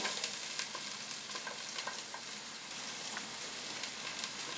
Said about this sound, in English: Now in the pan that we cooked our potatoes in, I'm going to go ahead and drop some onions in,